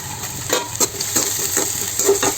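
Washed, medium-cut onions dropped into hot oil and frying, a steady sizzle with intermittent scraping and stirring clinks of a utensil against the pan, close and fairly loud, no talking.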